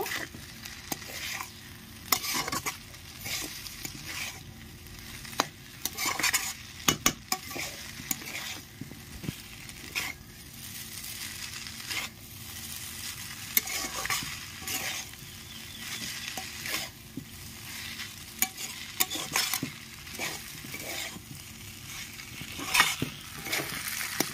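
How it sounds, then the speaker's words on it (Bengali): Fried egg and chowmein with vegetables are stirred and tossed in a frying pan, with a steady low sizzle under repeated scraping and clinking of the utensil against the pan, close and unhurried, no voices. "ভেজে রাখা ডিম দিয়ে দিচ্ছি, ভালো করে মিশিয়ে নেব।"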